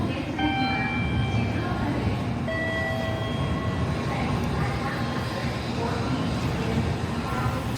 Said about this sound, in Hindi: ये नोज़ोमी 89 2139 पे जो है ये मेरी ट्रेन है हिरोशिमा की।